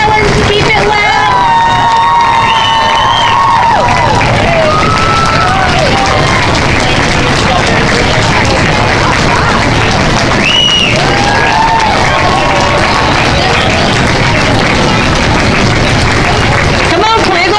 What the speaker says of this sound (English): Keep it going. Keep yelling. Keep it loud.